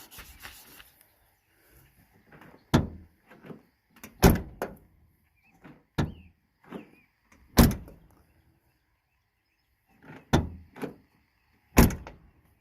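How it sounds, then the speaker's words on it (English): Ford Ranger door opened and slammed shut repeatedly, six or seven sharp thuds spaced a second or two apart, some followed by a softer latch click, with quiet gaps between. "Shut the door."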